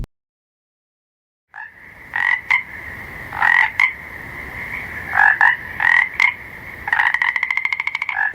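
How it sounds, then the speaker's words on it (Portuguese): A frog calling after a second of silence, giving loud, near croaks in uneven bursts that end in a rapid pulsing trill, heard alone. "Esse é o som de um sapo."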